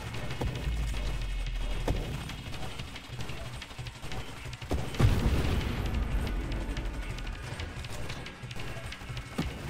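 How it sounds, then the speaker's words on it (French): Deep booming blasts and rumbling drone explosions in the video game NovaDrift, with a heavy burst near the middle, over a busy layer of game sound effects and faint voices. "Les explosions faites par les drones là font beaucoup trop de dégâts en fait."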